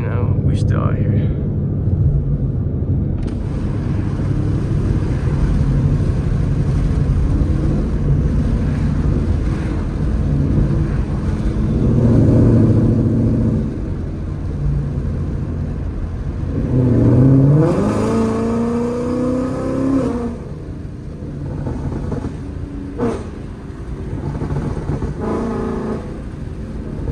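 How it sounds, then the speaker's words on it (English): A loud Ford Mustang GT engine drones in a low rumble, rising into a couple of strong revving surges before easing back, with a voice speaking over it, late at night. "This car is ridiculously loud."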